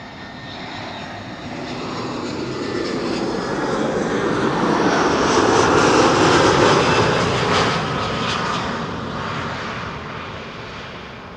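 An Airbus A319 jet lands at Amsterdam Schiphol after arriving from Bristol. Its engine roar builds from a distant hum to a loud, broad rush near the middle, then fades again. No voices are heard.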